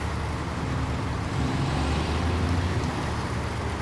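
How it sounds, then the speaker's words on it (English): The P16 truck in the SnowRunner video game gives a continuous deep engine drone with a rough low rumble, steady and fairly loud throughout, with no other sounds over it. "Yeah, I do like this truck sound a lot."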